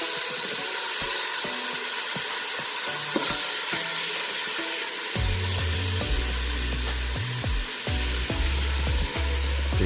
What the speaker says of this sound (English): I'm not frying it, I'm just browning it a little bit